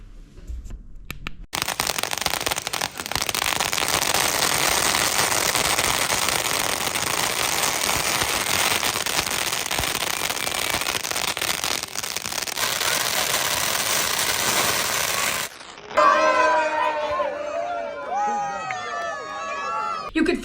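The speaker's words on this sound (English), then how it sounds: "Here are some of the crazy clips from the fireworks and burning." Fireworks and burning at a Hindu ceremony at a cultural center in Stratford, Connecticut: a dense, continuous roar of crackling bursts for about fifteen seconds, then it stops abruptly and excited voices and shouting crowd chatter follow.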